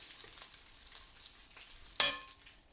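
Kashmiri red chilli powder and two dried chillies frying in a pan, a steady close sizzle with a soft stir-like scrape and a brief louder crackle near the end.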